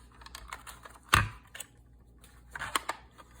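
Scissors snipping through a paper specimen card tag, a few quiet crisp clicks with one sharper snip, heard up close.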